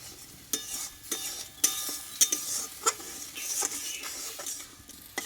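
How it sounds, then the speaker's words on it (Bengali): Dal sautés with spices and a little water in a pan, crisp spoon strokes scraping and tapping at a steady rhythm over a soft sizzle, close up and with no talking. "ডালটা আমি কষিয়ে নেব"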